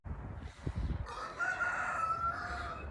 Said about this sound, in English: Every time I leave the coop and pen, my roosters crow now.